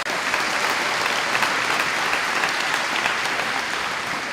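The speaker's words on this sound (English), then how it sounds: "So let's give another round of applause to Caitlin for doing a fantastic job as our MC again this year." A crowd at a high school awards show gives the MC a round of applause: dense, steady clapping that fills the room for several seconds at a constant, fairly loud level, with no talking on top.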